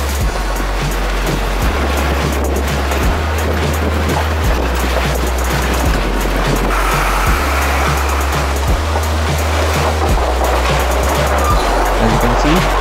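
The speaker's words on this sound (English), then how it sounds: "So the Nalla is simply flowing along with the going along the road." A Himalayan mountain stream near Keylong rushes loudly across the road as a vehicle drives through it, a constant roar of flowing water with low engine rumble and wind buffeting.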